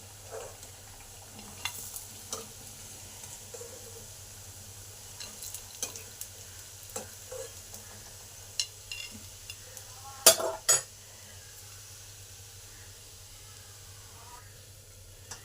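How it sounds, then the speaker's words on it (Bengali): Mashed-pea chops fry in hot oil with a low, steady sizzle close by, punctuated by scattered utensil taps and a couple of louder clatters near the end. "এইভাবে সব চপগুলো এক এক করে ভেজে নেব।"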